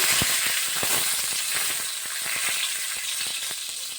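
Whole cumin seeds and a bay leaf crackle and sizzle steadily in hot oil, a dense frying hiss with frequent sharp pops spitting throughout, close and fairly loud with no talking.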